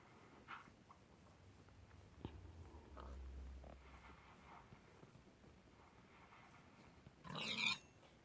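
Pig in the Minecraft video game gives a few faint grunting oinks among quiet game sounds, with one louder squeal near the end.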